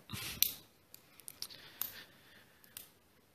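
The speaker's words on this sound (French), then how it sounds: "je vais me couper mon coton" Scissors snip a cotton wick for a vape coil: one sharp close cut, then a few lighter clicks and snips spread out over a few seconds, quiet and without talk.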